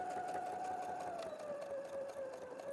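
A Brother sewing machine runs steadily up close, a smooth continuous whir whose pitch drifts slightly lower as it stitches.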